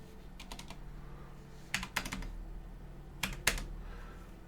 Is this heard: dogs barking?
no